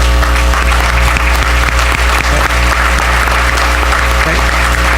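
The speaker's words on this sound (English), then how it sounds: "give you one big round of applause" A large audience at a board meeting applauds steadily, dense clapping filling the whole stretch without a break.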